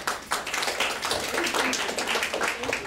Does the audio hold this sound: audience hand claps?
yes